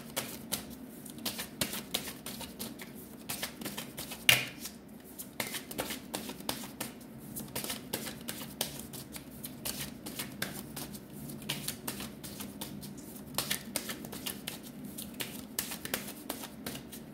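Tarot deck being shuffled by hand, a long run of quick soft riffling snaps and card flicks in irregular bursts, close and fairly quiet, with no talking.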